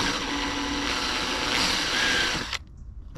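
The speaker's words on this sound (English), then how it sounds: "we will drill it out." A power drill bores out a plastic part of a door handle on a BMW 320d GT F34, whirring loud and steady close by for about two and a half seconds before stopping abruptly.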